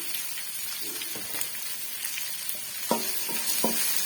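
Food sautés in a pan as it is mixed with salt, a steady hiss of frying with a few clear metallic spoon knocks and scrapes near the end, with no speech.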